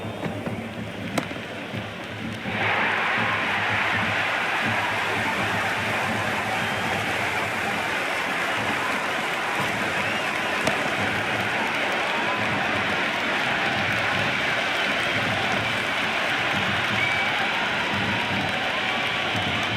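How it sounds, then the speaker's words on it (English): A steady, dense roar of crowd noise fills a cricket stadium in the video game Cricket 26, swelling after a quieter opening and holding loud and constant to the end. "There's a buzz, a real buzz coming from the stands."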